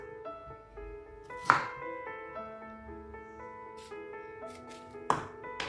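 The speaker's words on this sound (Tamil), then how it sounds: "இது 2 சைடும் கட் பண்ணிட்டு நம்ம தோல் சீவி எடுத்துக்கலாம்." A knife cuts the ends off and shaves the peel from a raw nendran banana for chips, giving a couple of sharp chopping thunks over a steady background of tonal hum, with no talk.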